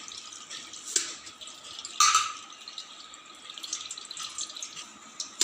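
Coriander roots are rinsed in water, giving soft running and trickling water with a few drips and splashes at close range, fairly quiet, with no speech.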